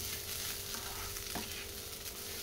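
Sprouts fry in a pan as a healthy snack, with a continuous dense sizzle up close and occasional stirring scrapes, no voices over it.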